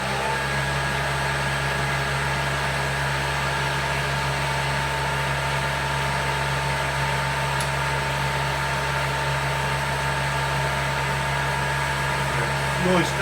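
A Bridgeport milling machine head runs steadily in high-speed back gear, a continuous mechanical hum and whine with a constant pitch and no changes throughout, heard alone.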